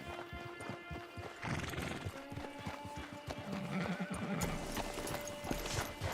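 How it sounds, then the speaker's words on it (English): A horse in Red Dead Redemption 2 trots with steady clip-clopping hooves, then lets out a whinny, with tack jingling and ambient outdoor tones, moderately close and alone without talk. "Get your horse."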